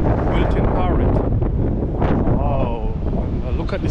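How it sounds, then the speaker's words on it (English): Strong wind buffets the microphone on Blackpool promenade by the sea at low tide, a loud continuous roar and rumble throughout, with someone talking over it. "So this is very, very windy."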